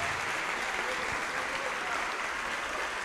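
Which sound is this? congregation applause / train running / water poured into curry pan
congregation applause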